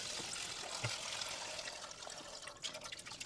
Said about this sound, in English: I am going to drain this petrol a bit more carefully.